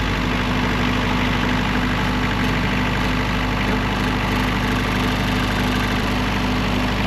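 A boat's generator engine runs steadily at idle after an oil change, a continuous low, even hum with a faint rattle, loud and unbroken throughout with no talking.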